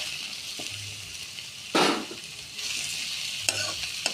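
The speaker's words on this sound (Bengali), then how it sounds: "হালকা করে ভেজে নিলাম কাঁঠাল" Jackfruit pieces are lightly fried in a pan, with a soft continuous sizzle broken by a few louder scraping stir strokes close by and no talk.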